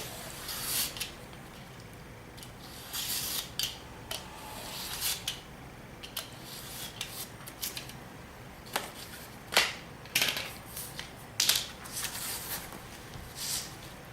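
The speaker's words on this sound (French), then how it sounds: "Alors moi je vais couper directement sans tracer le trait au crayon." A blade cutting cardboard in a straight line, freehand without a pencil guide: continuous scraping and crunching with irregular sharp snaps and rasps, fairly close, steady throughout.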